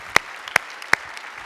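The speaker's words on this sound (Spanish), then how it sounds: "Dale un aplauso al Señor, hermano" Applause from a church congregation, three sharp, distinct claps spaced evenly and heard fairly close, with faint scattered clapping and a quiet background between them.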